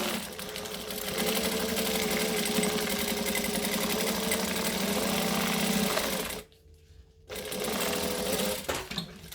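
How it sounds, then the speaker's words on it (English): A sewing machine runs a long steady stitch along a bag seam, pausing briefly near the end before stitching on again, close and alone. "I'm just going to stitch along and pull the clips out as I go"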